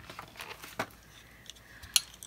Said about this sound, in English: that was my cat jumping on the table and making a racket